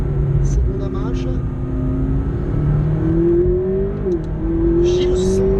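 A McLaren 650S accelerates in second gear, its engine tone rising steadily with a brief dip near the end, loud and close as heard from inside the car.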